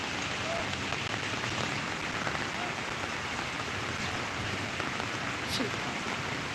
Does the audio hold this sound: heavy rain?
yes